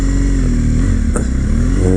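2015 BMW R1200GS Adventure motorcycle with an aftermarket exhaust, its boxer engine idling loud and close with a steady low throb and a slight rev near the end.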